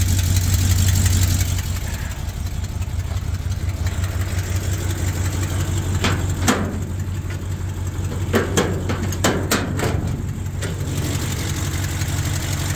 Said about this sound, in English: Motor runs good.